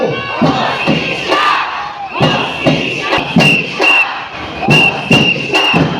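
A loud crowd chants in unison, shouting repeated rhythmic phrases with rhythmic thumps, cheering voices blending into a roaring rally.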